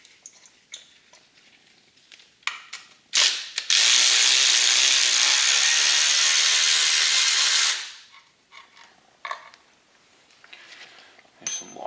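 A ratchet spins bolts back into a used engine from a 2013 STX 15F. Short, close ratcheting clicks lead into a loud whirring run of about four seconds, followed by more scattered clicks and handling noises.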